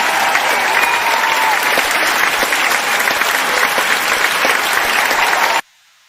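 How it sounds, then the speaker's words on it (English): Loud, steady applause and crowd cheering from a sound effect drop on a wrestling awards show, continuous for about five and a half seconds before cutting off abruptly into silence. "Let's get a little crowd noise here."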